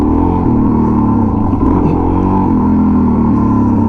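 A motorcycle engine held on open throttle during wheelie practice, a loud continuous drone that barely changes pitch, close and steady for the whole stretch with no pauses.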